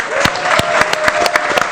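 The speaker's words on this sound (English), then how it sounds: "Let's give them a round of applause." Brief round of applause from an audience at a WordCamp tech conference, scattered individual claps standing out over a murmur of the room, short and fairly close.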